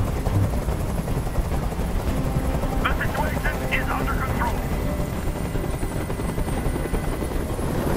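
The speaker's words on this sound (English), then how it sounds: "Tell that helicopter to get out of here!" Helicopter hovering in the video game Detroit: Become Human, a steady rotor thrum beneath tense voices speaking over it.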